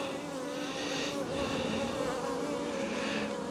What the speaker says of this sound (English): So those young bees that are emerging over there, I think that's fine.